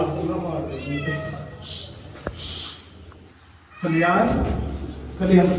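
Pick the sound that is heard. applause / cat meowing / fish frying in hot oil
cat meowing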